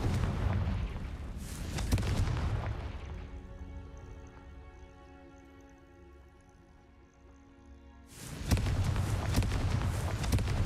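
Confringo fire spell from Hogwarts Legacy producing heavy booming blasts, with one loud rumbling burst early, a quieter sustained tonal stretch, then another big explosive roar near the end.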